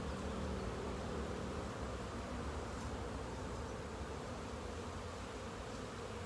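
Honeybees buzz around a hive on a mild February day, a dense, continuous hum of many insects close by, even and unbroken throughout.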